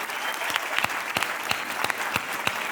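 A theatre audience claps steadily at the end of a morning folk singing performance, a dense sustained applause with sharp individual claps standing out throughout.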